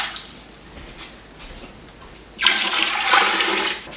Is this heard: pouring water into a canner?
yes